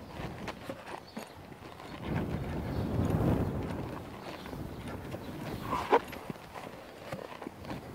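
A five-year-old quarter horse mare walking with a steady clip-clop of hooves at moderate distance, over a soft background rustle and no talk.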